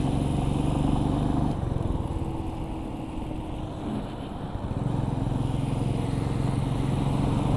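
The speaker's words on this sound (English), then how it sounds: "One of my favorite part of riding is riding through tunnels." A motorcycle riding through the Kadras road tunnel on a long highway trip, its engine a loud continuous drone with enclosed, echoing road roar that dips briefly midway before swelling back.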